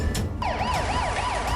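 An emergency siren wails along a street after an arson fire breaks out, its rising and falling tone sweeping loud and close in repeated cycles.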